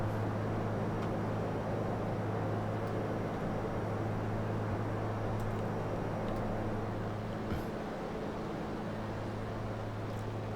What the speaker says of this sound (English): you're getting all the noise from the engine out of your right ear